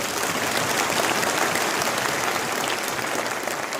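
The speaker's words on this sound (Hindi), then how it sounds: "ये ताली आपने मेरे लिए बजाई है" An audience claps for a speaker at a gathering against caste discrimination, with dense continuous applause held at an even loud level and no voices over it.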